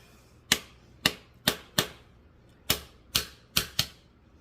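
A handheld Temu safety grater mincing garlic cloves gives eight sharp, clacking strikes spaced unevenly, close and fairly loud, with quiet pauses between and no talking.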